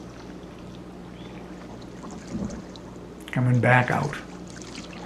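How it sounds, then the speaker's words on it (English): A canoe or kayak is paddled out of a cove on Glen Charlie Pond. A faint dip is followed by a louder watery paddle splash, with a person speaking briefly near the splash. "There we go, paddling out of a long cove."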